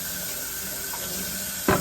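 A kitchen tap runs steadily with a continuous hiss of water during washing, ending in a brief clunk.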